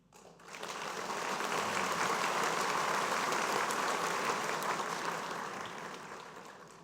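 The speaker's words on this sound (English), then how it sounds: "I think it's appropriate that we give them a welcoming clap." An audience at a school debate event gives sustained applause that swells quickly, holds dense and even for several seconds, then fades out.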